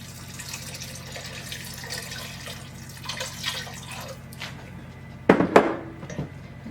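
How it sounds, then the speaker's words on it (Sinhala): Water splashes briefly into a pot for a Sri Lankan lentil curry with coconut milk, a close burst of pouring and dripping near the end over a quiet steady hum. "මේකට දාන්න ඕනේ මේක වැහෙන ගන්නට වතුර."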